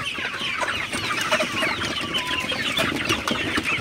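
A flock of Sonali super hybrid chickens, gathered around a water container on a hot, humid midday, clucks and chatters continuously nearby, many overlapping calls forming a busy, steady din.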